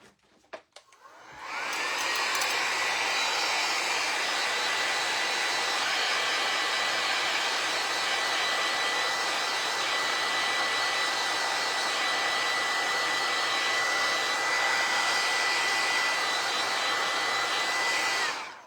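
A hair dryer blows steadily on black heavy gesso paint coating a vintage window frame, starting after a brief clatter and running as a loud, continuous broadband whoosh for about sixteen seconds before cutting off.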